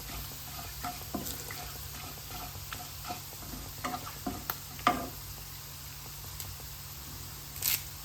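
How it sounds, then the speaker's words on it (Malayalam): Peppercorns and two bay leaves stirred in hot oil in a pan, a soft faint sizzle with sparse light scrapes and taps of the spoon, close by and quiet, no voices. "ഇനി ഇത് ഇളക്കാം"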